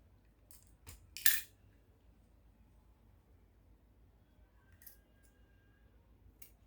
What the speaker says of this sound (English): So I'm gonna need to open it up, then I'll notch my zip allowance.